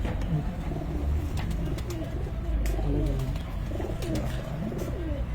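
Ali Wala breed pigeons cooing in a steady, continuous murmur of low throaty coos, close and fairly loud, with birds overlapping throughout and no talking.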